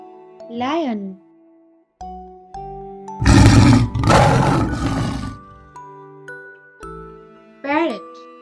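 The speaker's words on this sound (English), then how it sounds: "Lion." A lion lets out a loud, rough roar in two surging bursts near the middle, set between short tinkling chimes at the start and end.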